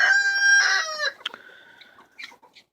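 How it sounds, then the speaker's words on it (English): Chickens cluck and a rooster crows close by, a sustained harmonic call for about a second followed by several short, scattered clucks that fade toward the end. "we're hanging out with the chickens"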